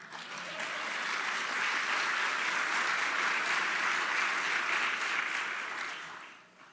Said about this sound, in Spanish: Si yo fuera usted, le diera un aplauso al Señor